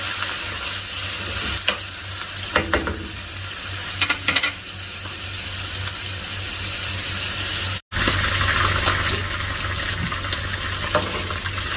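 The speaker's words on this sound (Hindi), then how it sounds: "मटन को मैं अच्छी तरह ब्राउन करूँगा" Steady, loud sizzling of mutton browning in a pan for karahi, with occasional stirring scrapes and no talking.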